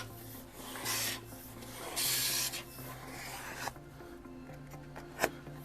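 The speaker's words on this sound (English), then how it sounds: "we grab our razor blade and we come to the back side and simply cut it off" A razor blade slicing through laminated sticker backing, with a few short, raspy scraping strokes, close and fairly quiet, ending in a small sharp tick.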